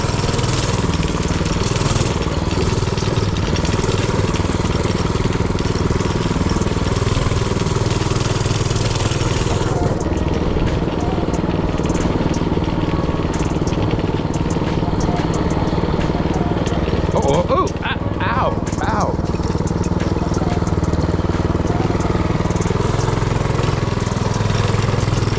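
A Predator 224cc mini-bike engine drones steadily while being ridden through McKinley Park, a continuous mid-pitched hum with a brief rise in revs near the end.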